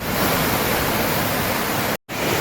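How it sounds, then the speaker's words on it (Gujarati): Small streams swollen and running bank-full after heavy rain give a steady, dense rushing wash close by, broken by a momentary cut near the end. "તો જો મિત્રો આ નાના નાના ઝરણા પણ બે કાંઠે જઈ રહ્યા છે"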